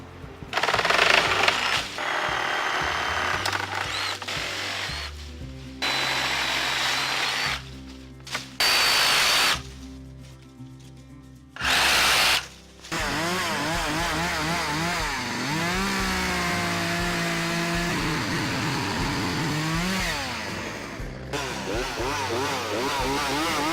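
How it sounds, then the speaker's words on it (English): A reciprocating saw buzzes loudly in repeated bursts, cutting through tree branches with short pauses between cuts, its pitch wavering as it bites in. "with the reciprocating saw and cut off the branches"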